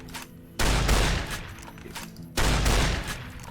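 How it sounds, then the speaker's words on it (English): Caravan shotgun fired in the video game Fallout New Vegas: two loud, booming blasts about two seconds apart, each trailing into a long echoing tail over a steady background. "Caravan shotgun, because why not?"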